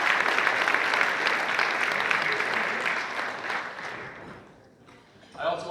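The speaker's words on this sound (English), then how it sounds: "due a round of applause again" Applause from guests at a rally gala dinner, dense clapping that swells then fades away over several seconds, followed by a voice starting to speak.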